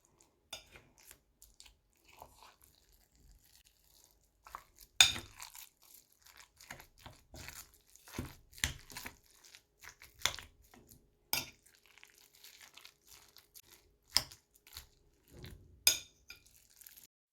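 Minced meat mixture stirred and worked in a bowl: scattered soft squelches and crinkly clicks with irregular scraping taps against the bowl, quiet and close, with no talk over it.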